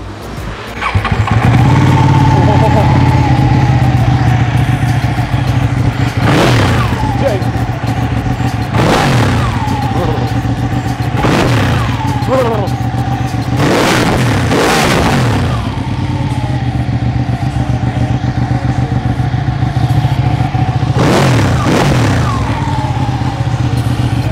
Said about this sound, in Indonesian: knalpotnya pakai Akrapovic suaranya gimana kita tes aja yuk